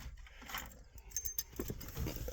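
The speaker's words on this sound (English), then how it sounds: "I'm dropping keys." Keys jangle and clink while being dropped inside a 1998 Bravada or 2004 Baja, a few faint metallic rattles over low background rumble.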